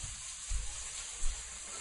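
Onions frying in a pan for a Thai coconut squash soup, a faint steady sizzle with a couple of soft bumps, no talking.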